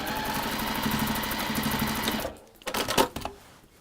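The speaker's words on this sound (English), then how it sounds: "you can just manipulate this round so that you're always just sewing on that straight line" A sewing machine runs along a straight seam on fabric with interfacing, a fast, even rattle of stitches for about two seconds, then it stops and a few soft handling clicks follow.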